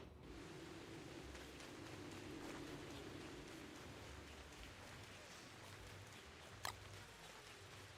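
Rain falls during the lush season in the Don't Starve video game, a faint, steady hiss of drops pattering continuously, with one brief sharp tick near the end and no talking.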